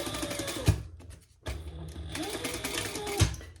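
A sewing machine runs a quarter-inch seam on a crossbody bag, whirring steadily in two bursts separated by a short pause, with a few thumps from the needle and fabric handling.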